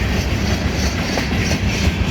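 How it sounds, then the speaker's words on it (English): Freight cars of a CSX maintenance-of-way train, including an old Seaboard Coast Line gondola, roll past close by in a loud, steady rumble with rhythmic clickety-clack from the wheels over the rail joints. "There's a Seaboard Coast Line gondola."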